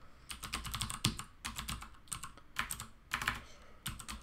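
Typing on a computer keyboard, bursts of close, light key clicks in uneven clusters with short pauses between them.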